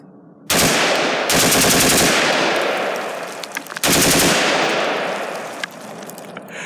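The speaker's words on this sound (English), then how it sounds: "gonna shoot it again a couple times just to see how it feels, and then we're gonna bump fire it again" Rifle with a Geissele SD-3G trigger bump fired outdoors, three loud bursts of rapid automatic-sounding gunfire, each rattling string trailing into a long echo, with a few scattered clicks between.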